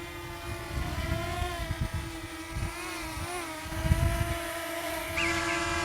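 A small G11 Mini beginner drone hovers and spins close by, its steady high-pitched rotor whine wavering in pitch as it turns, with soft handling bumps underneath and no talking.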